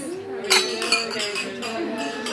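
Glasses clink together during a celebratory toast, with two bright chimes followed by a lingering ring over a background of room chatter.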